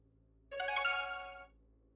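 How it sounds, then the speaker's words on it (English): A Clash of Clans notification chime on a phone, one short bright musical tone lasting about a second, clean and isolated against near silence. "I just got a Clash of Clans notification."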